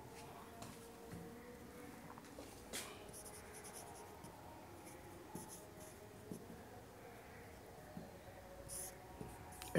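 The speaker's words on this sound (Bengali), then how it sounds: "একটু লিখে দিই এখানে।" Handwriting on paper makes soft, continuous scratching strokes, close and faint, with small taps and pauses between words.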